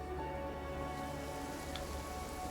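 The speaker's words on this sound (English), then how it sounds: "Oh, now it's raining." Steady rain patters in Infinity Nikki, a soft, even hiss of drops on surfaces that runs unbroken throughout, layered under sustained tonal game music with no voices.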